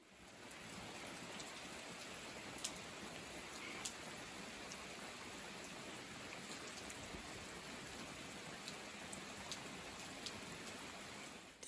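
Steady rain falls during a backpacking trip on Mount Rainier, a dense, even hiss with occasional louder drops close by and no voices.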